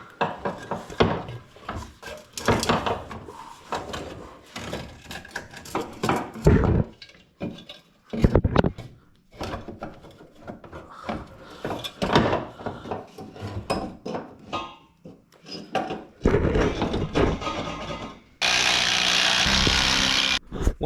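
Exhaust downpipe being refitted on a Toyota Celica: scattered metallic clanks, scrapes and knocks from parts and tools at close range, with irregular bursts and pauses and a short, steady noisy stretch near the end.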